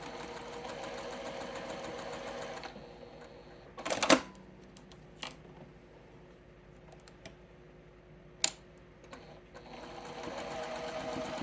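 A sewing machine stitches quilt block pieces, a steady close mechanical whir at the start and end with a quieter stretch between, broken by a few sharp clicks and clacks.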